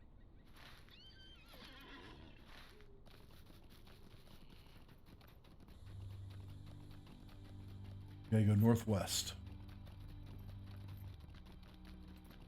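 In the video game Lord of the Rings Online, a horse whinnies loudly partway through, with soft hoof clops and a low background hum; someone speaks briefly early on.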